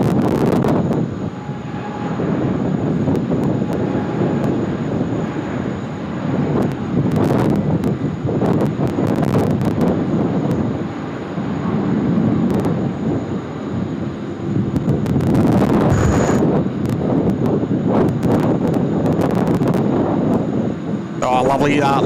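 A Cathay Pacific airliner, flight 110 bound for Hong Kong, takes off from runway 16 right at Sydney Airport. It makes a broad, rolling jet roar heard from a distance, with wind buffeting the microphone and voices faintly in the background.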